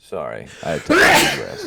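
A man sneezes sharply in a studio setting during a fight-night pre-show, one loud burst caught between bits of close talk from the same voice.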